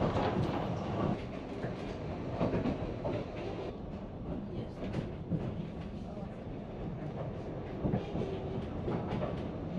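A narrow-gauge Ffestiniog Railway train in North Wales rolls along the rails with rhythmic clicking and rumbling, fairly close, and a voice talks now and then over it.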